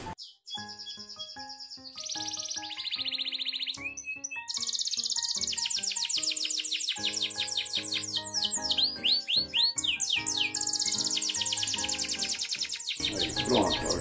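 Small cage birds chirping near their cage, bright rapid tweets and whistled calls that start sparse, then become dense and continuous, loud and close.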